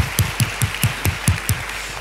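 Rhythmic hand clapping from a church congregation, about eight evenly spaced claps over two seconds, moderately loud against a faint room background, with no talking.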